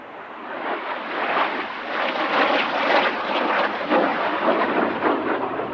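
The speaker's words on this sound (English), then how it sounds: "This is a Canadian licence-built version of the Sabre, a Canadair CL-13B Sabre Mark VI." A Canadair CL-13B Sabre Mark VI jet fighter passing at an air festival, a loud broadband roar that swells and rumbles steadily for several seconds without speech.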